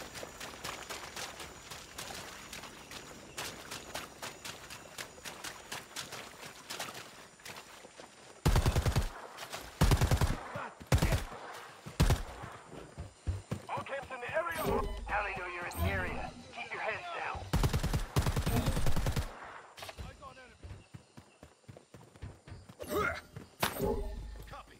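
Gunfire rattles in the Predator: Hunting Grounds video game in sharp bursts and short volleys amid radio chatter, alternating with quieter stretches of background game sound.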